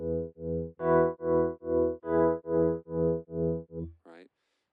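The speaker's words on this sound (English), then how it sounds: "they've done it with a Rhodes with a tremolo," Rhodes electric piano with tremolo plays a sustained chord intro, its level pulsing in about ten even swells before cutting off, followed by a brief higher note; no voices.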